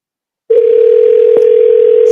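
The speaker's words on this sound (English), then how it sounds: "See, I can hear it ringing now," A telephone line gives a loud, steady dial tone that starts abruptly after a short silence and holds unbroken, with a faint click partway through.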